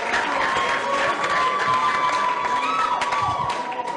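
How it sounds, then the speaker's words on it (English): Comedy club audience applauding and cheering a stand-up comedian as he takes the stage, a dense, steady wash of clapping with whoops and shouts throughout, loud and close. "Keep clapping until he gets here."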